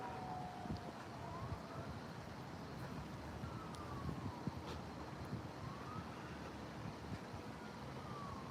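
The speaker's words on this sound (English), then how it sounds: "Now there's a fire truck and an ambulance right now." Faint wailing fire truck and ambulance sirens rise and fall in the distance over steady wind and low traffic rumble.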